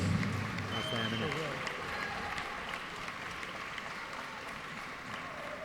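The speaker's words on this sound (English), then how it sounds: "Big round of applause, Jake Morris from Wales." A crowd at a school athletics championships medal presentation applauds steadily throughout, a dense wash of clapping with a voice faintly speaking over it.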